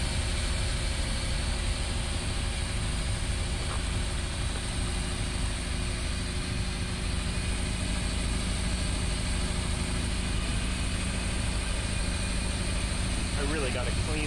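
A boat engine runs loudly and continuously at close range, a constant rumbling drone that holds steady throughout.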